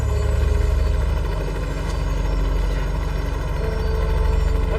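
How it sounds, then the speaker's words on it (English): Steady, loud helicopter rotor and engine drone with a low pulsing thump, heard close and continuous throughout, in remote grizzly bear wilderness, with no talking. "He climbed in the helicopter."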